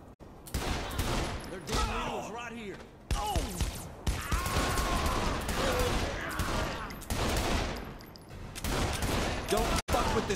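Dense, sustained gunfire fills the chaotic Saints Row: The Third battle, with overlapping bursts, explosions and shouting voices throughout, close and loud.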